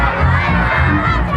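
A large audience at a live concert of devotional songs roars and shouts continuously, a dense, loud wall of cheering crowd noise with children's shrill voices mixed in, steady for the whole moment.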